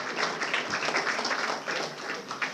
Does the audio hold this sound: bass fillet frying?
no